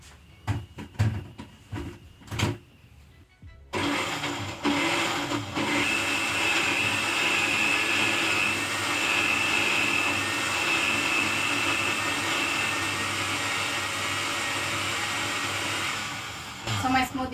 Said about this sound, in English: Then I'm going to cover and blend.